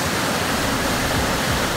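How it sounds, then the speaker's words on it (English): Floodwater rushes over submerged stairs after heavy rain in Gatlinburg, a loud, steady, unbroken roar of churning water with no voices. "It's completely submerged in water. It's like rushing over."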